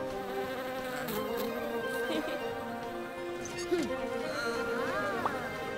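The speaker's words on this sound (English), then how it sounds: "A friendly little bee!" A friendly little cartoon bee gives a continuous, quiet buzzing drone mixed with soft cartoon background sounds and what may be faint voices.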